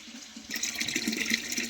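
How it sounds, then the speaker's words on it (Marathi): Water runs from a tap into a vessel as a woman fills water for household use, a steady broadband rush starting abruptly after a brief quiet moment and continuing close up. "त्याच्या आधी पाणी भरून घेते"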